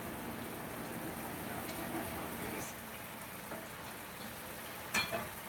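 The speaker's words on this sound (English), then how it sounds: "right now I'm gonna add in my sweated onions" Sweated onions go into a pot of nearly cooked rice at an outdoor cookout, giving a steady, moderately loud broadband sizzle and fry with faint stirring clicks and a short clatter near the end.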